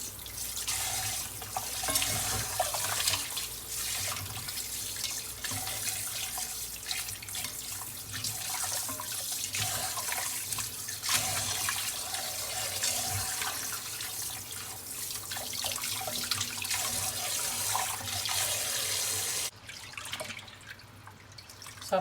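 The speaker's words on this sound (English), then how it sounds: "I'm gonna add some cold water." Cold tap water runs steadily from a faucet into a bowl holding raw chicken soaked in lemon juice and vinegar, a continuous splashing flow that stops abruptly near the end.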